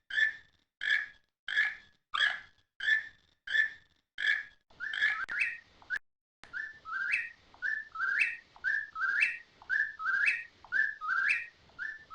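Bird calls from The Magic School Bus Explores the World of Animals game, with a whippoorwill among the birds named: a close, clear run of repeated whistled phrases, first evenly spaced, then faster overlapping notes with no talking.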